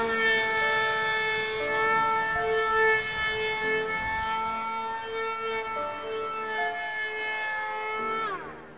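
A radio-controlled plane powered by a Racestar BR2212 1800Kv brushless motor makes a steady, high electric whine through a low inverted pass, and the pitch drops sharply near the end as it speeds past and away.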